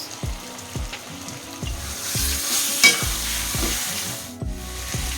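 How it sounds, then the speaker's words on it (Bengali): Garlic, ginger and cumin spice paste with onion paste frying in a pan with a splash of water, a soft steady sizzle broken by repeated spoon scrapes and stirring knocks, close and moderately loud. "সামান্য একটু জল দিয়ে মশলাটা কষাই নিচ্ছি"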